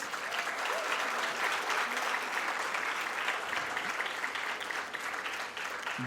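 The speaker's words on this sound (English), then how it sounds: "she deserves one big round of applause" Sustained applause from a large audience after a Bharatanatyam dance recital, dense and steady clapping filling the whole stretch, evenly loud throughout.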